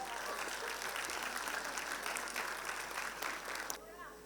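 Parents at a school annual day giving a round of applause to welcome a guest journalist, dense continuous clapping filling the hall from start to finish before tapering off.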